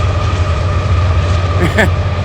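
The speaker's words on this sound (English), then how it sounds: "Now we just had another train go by." Another train rumbles past on a CSX double-track rail line in the woods near Conneaut, a continuous heavy roll of cars with a brief higher squeal near the end.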